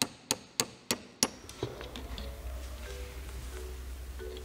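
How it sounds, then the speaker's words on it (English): Five sharp metallic hammer strikes in quick succession drive a C-ring into the shaft of a container lashing fitting, each a crisp close knock, followed by quieter rustling and handling noise. "The C-ring is mounted into the shaft using a hammer."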